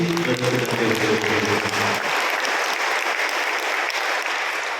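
A church congregation at Sunday Mass breaks into sustained applause, a steady dense clapping that follows a voice fading out in the first seconds.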